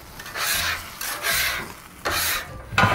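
A scraper is pushed across a hot Blackstone griddle surface in three or four rough, rasping strokes with brief pauses between them, close and fairly loud, with no talking.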